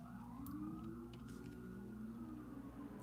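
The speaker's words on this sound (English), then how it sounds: "Sorry for the sirens, you guys." Emergency vehicle sirens wail outside, faint and distant, with slow rising and falling tones sustained throughout.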